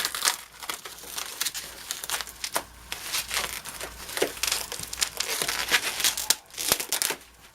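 A tape-sealed package being unwrapped, a steady run of close crinkling and crumpling with sharp tearing bursts, loud and alone without talk.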